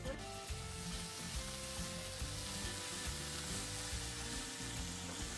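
Finely chopped large tomato sizzling in a pan with onions for masala idli fry, a steady dense hiss of frying with faint stirring underneath, no speech.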